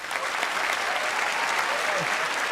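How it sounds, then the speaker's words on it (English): Studio audience breaking into applause, a full, steady clatter of many hands with a faint murmur of voices underneath, sustained at an even level. "everyone in the audience is clapping for the first time in this conversation"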